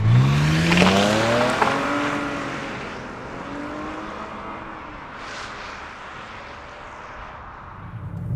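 A car drives past close by, its engine note sweeping down as it goes, then fading into a steady, fainter rolling drone.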